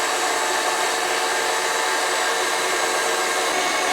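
A KitchenAid stand mixer drives a pasta press attachment that pushes out spaghetti, a loud constant motor whir that holds evenly throughout with no break.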